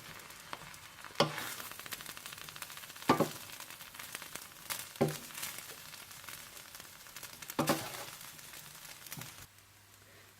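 Shahi Charga Pulao being mixed in a pot after resting on dum, giving soft scraping and stirring sounds with a few sharper clacks of the spoon against the pot, quiet and close over a light sizzling hiss.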